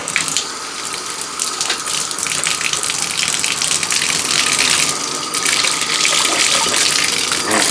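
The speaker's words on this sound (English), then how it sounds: "I have to put a little bit more water in there so she can't actually jump" Water pours steadily into an African bullfrog's container, a loud continuous gushing splash lasting several seconds without a break, close up and with no talking.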